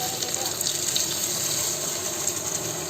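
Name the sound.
water poured over chicken in a pot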